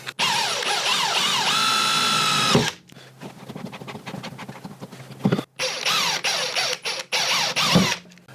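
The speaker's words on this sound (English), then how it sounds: "I like to drive it in about halfway with the power drill" A power drill whines loudly in bursts, revving as it drives a Wallmate plug into a wall, with short pauses and lower grinding between runs.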